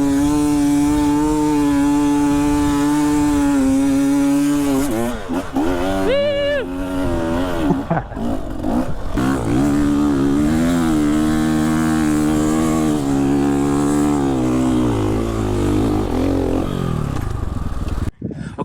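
A 450 EXC off-road motorcycle roars up a sand hill, engine loud and strained with rising and falling revs over nearly twenty seconds, close by.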